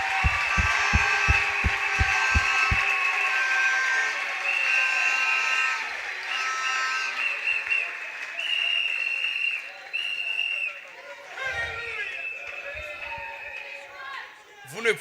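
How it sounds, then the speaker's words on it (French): A large church congregation applauds loudly and steadily at a French-language service, with a low rhythmic thumping at first and a raised voice and music-like tones over the clapping toward the end. "Applaudissez encore très fort."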